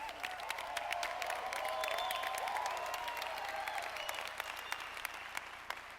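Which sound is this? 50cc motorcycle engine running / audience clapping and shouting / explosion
audience clapping and shouting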